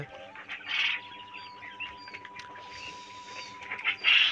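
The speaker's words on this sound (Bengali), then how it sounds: "আমি তো আমার সাদা কোয়েল পাখি ধুলোতে খেলা করতেছে" White quails chirping and peeping in an enclosed farm room, soft scattered calls with faint rustling and a steady electrical hum underneath.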